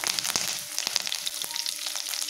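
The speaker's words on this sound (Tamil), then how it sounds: "இப்போது கடுகு சேர்த்திடலாம். கடுகு பொரியட்டும்." Mustard seeds spluttering in hot oil in a kadai, a quiet steady sizzle with sharp scattered pops and crackles over a couple of seconds.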